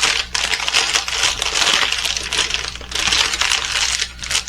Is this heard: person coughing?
no